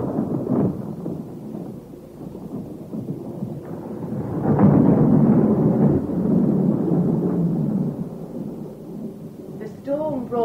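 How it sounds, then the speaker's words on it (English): A thunderstorm rumbles, with deep rolling thunder swelling and lingering under steady rain and wind, loud and continuous throughout. "The storm brought you to us swiftly, my lord."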